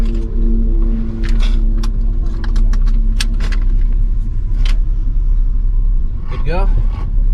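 An RV engine idles low and steady close by, a continuous rumble with a faint tonal hum, joined near the end by brief clinks and a rising whine.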